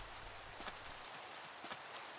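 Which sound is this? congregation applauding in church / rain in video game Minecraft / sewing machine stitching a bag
rain in video game Minecraft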